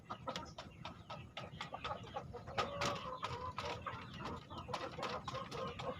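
A rooster sick with Newcastle disease clucks repeatedly amid farmyard bustle, with short sharp calls scattered throughout at moderate distance over steady background noise.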